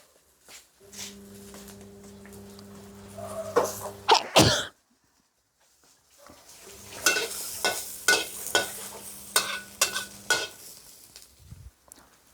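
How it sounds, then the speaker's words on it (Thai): Chilies, garlic and shallots roast in a pan with soft sizzling and scraping stirs, broken by loud sharp coughs or sneezes from the cook, a silent gap, then more stirring scrapes and clatter up close. "ขั่วพริกขั่วกระเทียม ขั่วหอมแดงค่ะพี่น้อง"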